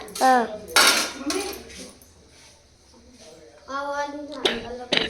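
Clinking utensils and dishes while a lunch box is packed for school in a home kitchen, several sharp bursts of metal clatter separated by pauses, with someone talking in between.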